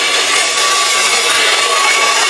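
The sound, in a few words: Lily England lightweight hair dryer running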